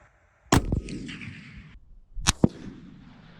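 Two sharp rifle gunshots fired outdoors at range, about 1.8 seconds apart, each a loud crack followed by a rolling echo that decays over a second or more, with no talking.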